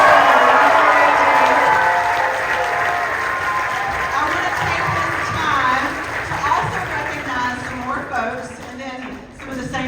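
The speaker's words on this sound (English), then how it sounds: "let's give our cast and crew one more round of applause" Loud, dense applause from a theatre audience for the cast and crew of a Midsummer Night's Dream production, steady and sustained, thinning and growing more uneven in the last seconds as cheers and voices mix in.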